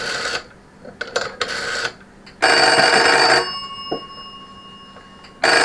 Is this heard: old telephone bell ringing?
yes